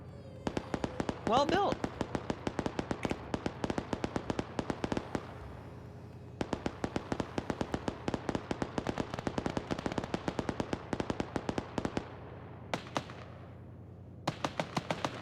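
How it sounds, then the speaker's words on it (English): In a video game, gunfire crackles in rapid bursts of sharp shots. It stops briefly twice and then resumes, and a voice speaks for a moment over the shooting. "Gunshots all around."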